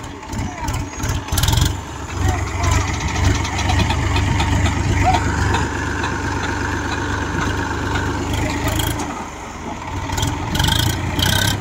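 A Massey Ferguson 50HP tractor hitched to a trolley idles and rumbles steadily while reversing, its low engine drone continuous for several seconds with voices calling out intermittently nearby.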